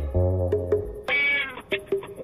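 A cat meows several times in quick succession, close and fairly loud, with short pauses between the cries.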